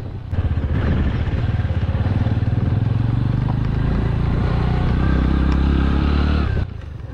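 TVS Radeon 110 motorcycle ridden over an uneven road, its steady engine drone close and loud with rattles and clatter from the bumps throughout, no talking.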